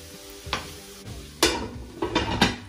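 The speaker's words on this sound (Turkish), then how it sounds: "Ara ara karıştırayım." Onions and garlic sizzle in a frying pan while a utensil stirs them, giving a few distinct scraping clacks over a steady close frying hiss, with no talking.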